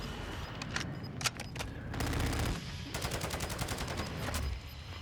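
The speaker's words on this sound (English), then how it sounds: "There's a guy shooting." Video game gunfire: bursts of rapid automatic shots and single cracks, close and fairly loud, in quick repeated volleys.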